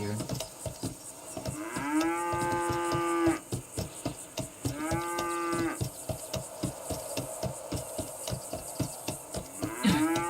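A cow in the FiveM zombie survival game moos twice in long, drawn-out calls, with a shorter start of a third at the end, over a steady run of rapid clicking like keyboard typing.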